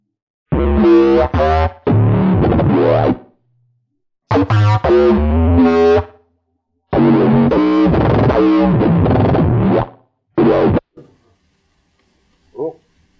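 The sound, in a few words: bass synth sounds played live on a Pro-One synthesizer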